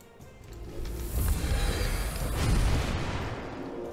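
A fire blast spell explodes in the tactics video game Absolute Tactics: Daughters of Mercy, a rumbling whoosh that swells, briefly dips, then builds again before fading, with no talk over it.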